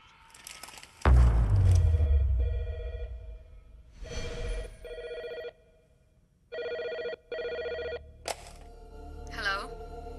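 A telephone rings in a Telugu film raid scene, with several loud, close bursts of bell ringing separated by short gaps, mixed with a heavy thump and other scene sounds.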